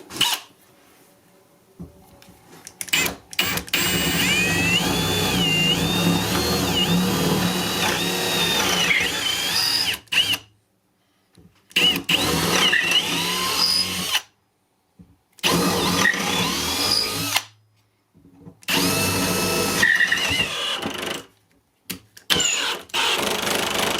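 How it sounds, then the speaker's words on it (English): A power drill whirs in repeated bursts, boring into a tabletop, its pitch rising and wavering as it bites in, with short silent pauses between runs. "It's kind of scary when you drill into the top of the table."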